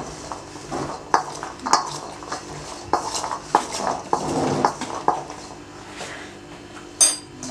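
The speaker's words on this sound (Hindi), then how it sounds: "अच्छी तरह से इनको मिक्स कर लें कि सब चनों के ऊपर कॉर्नफ्लोर का कोट हो जाए।" Chickpeas being mixed with cornflour in a bowl, heard as irregular clinking and knocking of a spoon against the bowl with soft rustling of the coated chickpeas, close and without talk.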